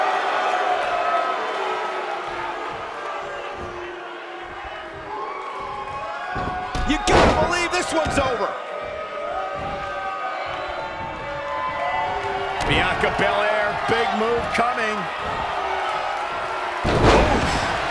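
Excited commentary in the WWE 2K19 wrestling video game runs over a steady roar of crowd noise, punctuated by loud slams and thuds from the ring.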